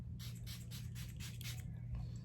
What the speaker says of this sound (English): I'm gonna spray it first with the same face mist that I used earlier as primer